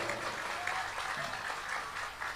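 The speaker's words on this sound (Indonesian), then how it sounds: "Tepuk tangan untuk beliau." A gathering at a public religious talk applauds an honoured professor in a brief burst of dense, steady clapping at moderate volume.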